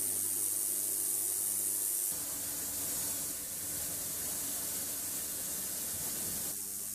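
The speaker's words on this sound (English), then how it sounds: "The noise you can hear are the ultrasonics working." An ultrasonic cleaner running with cleaning fluid, cleaning mechanical seals, a steady broad hiss with a high-pitched whine on top, constant and fairly close, no voices.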